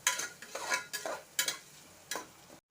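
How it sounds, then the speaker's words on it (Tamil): Green chilies sautéing in hot oil in a pan, heard as four or five short scraping stirs with soft sizzling between them, close and fairly quiet, with no voices. "எண்ணெயில் நல்லா வதக்கிக்கலாம்"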